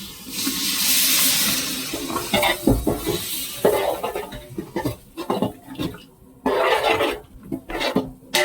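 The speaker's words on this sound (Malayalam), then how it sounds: "വെള്ളം ഒഴിക്കുക" Water gushes and splashes into a pot of fish curry with chili powder for a couple of seconds, followed by scattered clinks and stirring noises.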